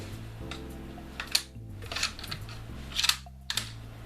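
A Mosin Nagant rifle bolt being worked after a sticky-bolt fix, giving a few sharp metallic clicks and clacks, two clustered bursts of mechanical action, close and fairly quiet with no talking.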